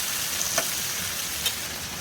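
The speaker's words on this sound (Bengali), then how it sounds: "এর সাথে ভালোভাবে ভেজে নেব লাল লাল করে" Shrimp fry in a pan with tomato and spices, giving a loud, close, continuous sizzle with a couple of brief crackling pops.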